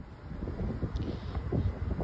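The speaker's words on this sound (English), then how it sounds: "It's windy. She's scared with the wind" Gusty outdoor wind rumbles and buffets the microphone in a continuous low roar that swells and eases over a couple of seconds, with faint rustling mixed in.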